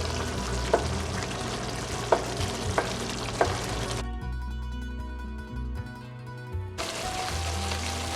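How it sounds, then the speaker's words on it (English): Meatballs cook in marinara sauce with a steady sizzle and bubbling, broken by a few sharp spoon clinks against the pan and a brief quieter stretch before the sizzle returns. "Put your meatballs into your marinara sauce mixture and you want to simmer them for about 45 minutes or until they are tender"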